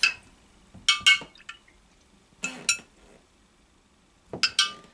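A spoon stirs a fermented drink with a SCOBY in a glass jar, making close, bright clinks and scrapes against the glass in three separate bursts with quiet pauses between.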